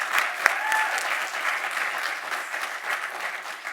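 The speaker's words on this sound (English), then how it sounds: "Let's give him a round of applause." An audience claps for a student leader at a technology and innovation summit, a full burst of applause with one sharp close clap near the start that then settles into a steady, slowly fading patter.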